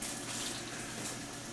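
Water pours from a tap into a school lab beaker, a steady broadband hiss that stays even and fairly quiet throughout, with no talk.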